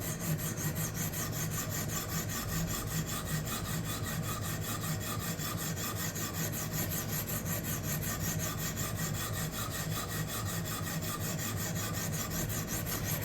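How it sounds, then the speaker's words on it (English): Steady abrasive rasping of a knife blade worked against a diamond plate on a fixed-angle sharpener, a continuous close scraping with repeated strokes and no talk. "I'm actually glad I'm sharpening this on a fixed angle."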